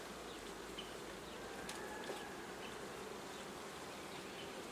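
Honey bees buzz around an open hive in a dense, continuous drone, fairly faint and steady throughout, with a few individual bees passing closer and no voices.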